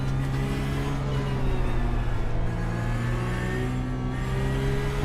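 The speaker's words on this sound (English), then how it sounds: "Nice and cleanly, the number 6 will pass us" A Porsche Cup race car at Mugello, its engine a loud, steady, high-pitched drone heard close up. The pitch holds fairly level as another car draws alongside and passes.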